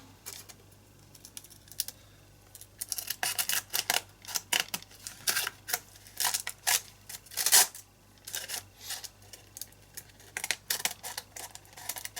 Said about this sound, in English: just cut that corner off.